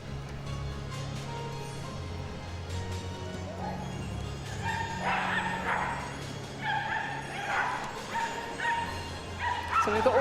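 Dogs of mixed breeds and sizes at a Crufts canine cross-country display, with barks and yips breaking out in the second half over a steady crowd-filled arena hum.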